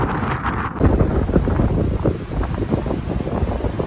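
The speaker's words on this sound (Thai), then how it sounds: "แต่ลมนี่แรงมากนะ ลมอาจจะเข้าไปในกล้องเลยนะคะ" Strong sea wind buffets the camera microphone at the shore, a loud continuous low rumble that roars on without a break and swamps all other sound.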